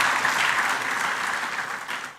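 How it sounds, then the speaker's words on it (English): Audience applause fills the room at an awards ceremony for India's great mid-size workplaces, a steady dense wash of many hands clapping that holds evenly for about two seconds before tapering slightly. "I think applaud equally for everyone"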